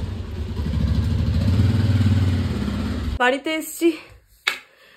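A motorcycle engine rumbles steadily at close range while being brought into a house, then cuts off, leaving a few clattering knocks and scrapes of movement afterward.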